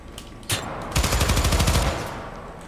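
A firearm in the shooter game Syndicate lets off a single sharp shot, then a rapid automatic burst of about a dozen loud, close rounds that fades into a brief echoing tail.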